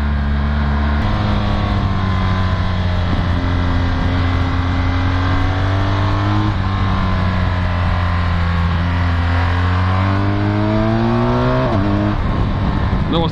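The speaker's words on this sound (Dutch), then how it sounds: "Dat was de quickshifter, heerlijk." A 2016 BMW R1200GS Adventure motorcycle accelerating hard, its engine note rising and cutting sharply at each quickshifter gear change, several clutchless shifts in a row, loud and close throughout.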